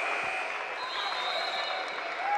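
Crowd at an eighth-grade middle school all-star basketball game applauding a hustle play, a faint, steady wash of clapping from the stands heard throughout.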